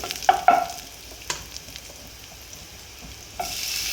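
Curry leaves hit hot oil in a frying pan with a sharp crackle and pop, then settle into a steady sizzle, with a burst of frying again near the end.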